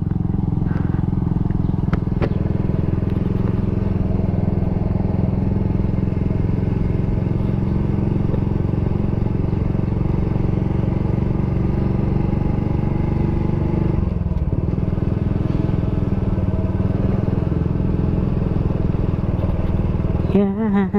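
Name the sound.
motorcycle with Taikom power pipe exhaust revving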